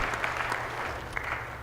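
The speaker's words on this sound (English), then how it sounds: "Give them a round of applause," A crowd applauding, dense clapping at a steady level throughout, moderately loud and close.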